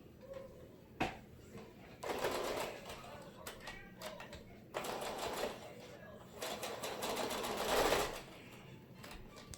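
A sewing machine stitches a homemade fabric mask in several bursts of rapid whirring, with short pauses between runs and a faint voice speaking in the background.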